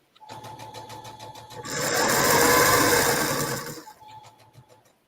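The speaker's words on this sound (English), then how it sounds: "I love the sound of a sewing machine, especially an older, like featherweights." A sewing machine runs with a rapid mechanical rattle, speeding up into a loud steady whir for a couple of seconds, then slowing back to ticking stitches.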